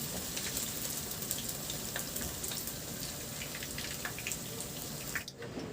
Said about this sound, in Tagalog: iprito ko na rin yung tokwa na hiniwa ko lang na maliliit na pa-cubes